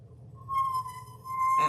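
Etching tool scraping across a surface, a thin sustained high squeal that rises in after a quiet start, holds, then turns harsher and louder near the end, close up with no talking.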